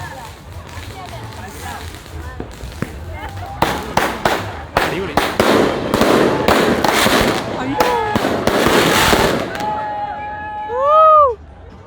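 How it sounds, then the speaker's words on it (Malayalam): A rapid series of sharp firecracker bursts pops and cracks for several seconds amid background voices at a New Year's night beach celebration in Grand Baie, Mauritius, followed by a few rising whistling tones at the end. "ഇപ്പോഴും പടക്കം പൊട്ടിക്കല് കണ്ടിന്യൂയിങ് ആണ്"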